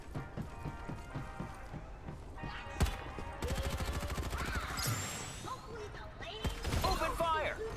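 Gunfire in the Farlight 84 video game: bursts of rapid shots and single cracks among game effects and background music, with a clear loud shot near the middle and dense rattling fire after it.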